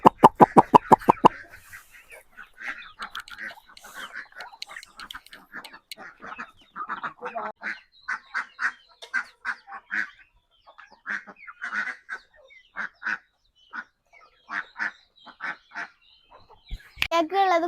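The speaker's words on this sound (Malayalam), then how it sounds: "നമുക്ക് താറാവ് കുട്ടിക്കും താറാവിനൊക്കെ കൊടുക്കാം" Ducks and ducklings being fed rice quack and honk in short, repeated bursts, close by and fairly loud, with a brief voice heard at times.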